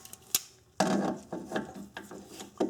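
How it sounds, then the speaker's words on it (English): Craftsman vice grips clamp onto a stud while sway bar links are being replaced, heard as a few close, sharp metallic clicks and ratcheting snaps spaced irregularly over a couple of seconds. "So we'll go ahead and attach on the vice grip here."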